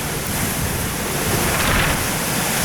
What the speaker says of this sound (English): Longest wind we've ever been in, and I don't want to be in anymore.